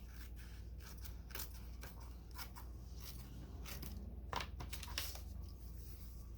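Scissors snip through paper while a homemade sketchbook is trimmed, a run of quiet, crisp cuts at an irregular pace over low background hum, close by and without speech.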